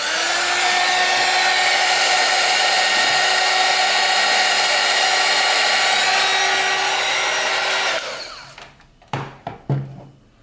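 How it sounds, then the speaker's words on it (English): Heat gun blowing hot air onto a Peltier module, a loud steady whooshing roar with a whine that runs for about eight seconds, then cuts off, followed by a few soft knocks and handling sounds. "So I will use a heat gun and blow hot air on the hot side"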